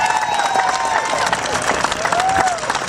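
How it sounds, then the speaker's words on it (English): Crowd applause and cheering at a Tea Party Express rally in Arkansas, given for the troops; dense, steady clapping mixed with shouts fills the whole stretch, close and loud, with a few voices calling out over it. "Let's give them a great big round of applause."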